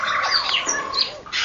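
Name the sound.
African grey parrot calling in aviary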